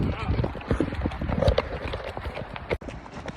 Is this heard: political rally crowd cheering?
no